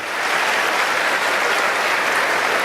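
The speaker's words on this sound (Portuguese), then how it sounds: "Dê um aplauso ao Senhor." A church congregation applauds steadily and densely throughout a Portuguese-language worship service, a full room of hands clapping at an even, sustained level with no speech over it.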